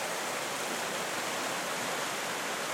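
A creek flowing steadily, a broad even wash of running water with no breaks, alone with no voices, during a walleye fishing outing.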